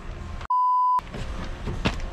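A single short electronic phone beep, steady and clear for about half a second, cuts through background noise and a rustling ambience inside a 4.5-ton truck.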